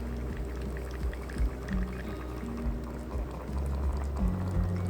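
Brewed coffee being poured from a filter brewer, a steady liquid trickle with bubbling and gurgling close by, with low thumps underneath and no talk.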